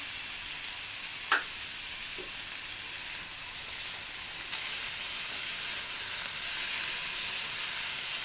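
Cashews, ginger and garlic sauté in a pan with a steady bright sizzling hiss, broken by a couple of brief stirring taps.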